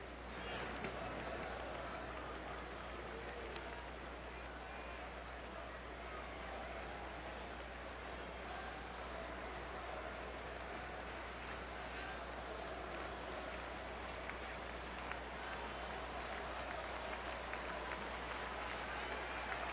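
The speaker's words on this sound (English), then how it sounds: "this crowd starting to energize a little bit here at Miller Park" A baseball crowd at Miller Park during a Brewers versus Cincinnati Reds game, a steady murmuring roar with scattered clapping, heard faintly beneath a broadcast commentator's talk.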